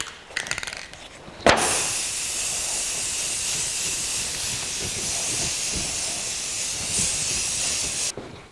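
Aerosol can spraying a second coat of semi-gloss black paint, a steady close hiss held for several seconds, preceded by a few brief sputters and rattles.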